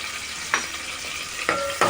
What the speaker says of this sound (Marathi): तेलामध्ये भाजून घेऊया कांदा लसूण